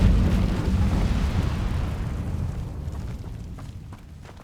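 An Incendio fire spell in Hogwarts Legacy erupts as a loud, roaring burst that starts at full force and slowly fades over a few seconds.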